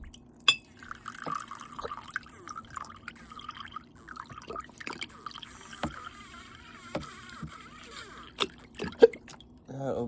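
Fiji water is poured into a glass with irregular gurgles, trickles and drips over ten seconds, interspersed with small clinks and handling noises, close and moderately quiet.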